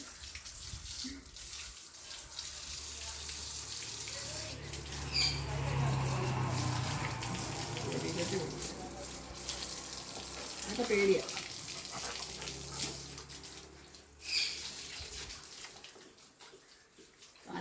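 Water pours and splashes on and off while a Labrador dog is bathed, fairly faint, while people talk in the background.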